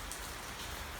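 Rain falls steadily on a Monday morning, a soft, even patter of drops on surfaces, faint and continuous, with no talking.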